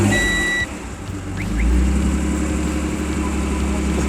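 A Honda six-cylinder car with a modest aftermarket exhaust idles loudly up close at an outdoor car show, its low engine drone swelling slightly as it is revved a little; a voice speaks briefly over it.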